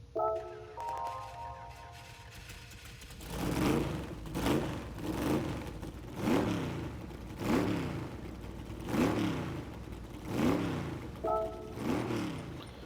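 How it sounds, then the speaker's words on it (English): A 1970 Chaparral 2J racing car in Gran Turismo 7 starts up after a brief game menu tone, then revs in repeated rising blips roughly once a second, loud and close with no talk. "we'll listen to the startup sound"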